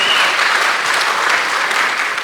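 An audience breaks into dense, sustained applause following a talk on Santa Barbara's economy and State Street, loud and steady for the whole stretch with no voices over it.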